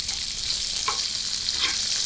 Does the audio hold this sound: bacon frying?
yes